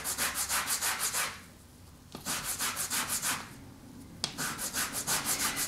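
Zest scraped off an orange on a grater, heard as close, rhythmic rasping strokes in quick bursts, with short pauses as the fruit is turned.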